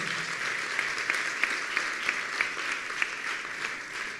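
Sustained applause from a crowd at an awards ceremony, a steady wash of clapping with a few sharper claps standing out, no voices.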